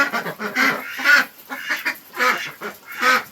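Ducks on a homestead call in repeated harsh quacks and honks as new birds meet the flock, about six loud, close bursts in quick succession.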